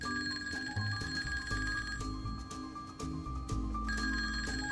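Telephone ringing in an office of a detective's residence, repeated electronic bell rings in a regular pattern, moderately loud and unanswered, with no talk.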